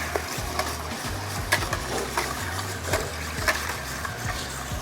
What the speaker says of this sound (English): I'm just using the regular old-fashioned whisk.